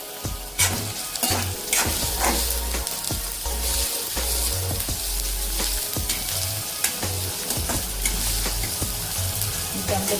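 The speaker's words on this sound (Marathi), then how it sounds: "इथं मी आलं लसूणची थोडी पेस्ट घेतलेली ती टाकते।" Ginger garlic paste and onion frying in hot oil for a pav bhaji paratha filling, a steady sizzle punctuated by frequent sharp scrapes and clinks of a spatula stirring the pan, close up and with no voices.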